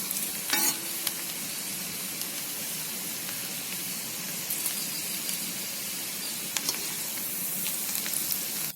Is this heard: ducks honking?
no